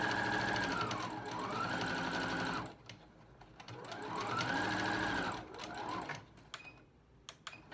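A sewing machine stitches costume fabric in two long, steady runs with rising and falling whine, separated by a short pause and followed by faint handling clicks.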